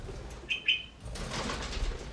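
Pixel, a pet bird with slightly clipped wings, flutters around a room in a short, quiet burst of soft wingbeats, with a couple of faint chirps early on and low room noise.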